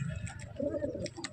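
A pet pigeon coos once, a soft low throaty call close by with a faint chirp above it.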